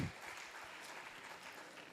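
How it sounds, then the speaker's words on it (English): Audience applause at a North East Day of Literature event: dense, steady clapping from a crowd that fills the whole stretch at an even level, with no voices over it. "Please give us a very big round of applause."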